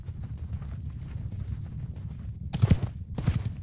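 Horse hooves clip-clopping in the video game Mount & Blade 2: Bannerlord, a quick run of soft footfalls over a low rumble, then two louder, sharper bursts of hoof strikes near the end.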